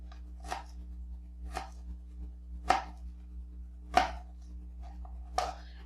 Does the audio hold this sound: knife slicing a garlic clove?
yes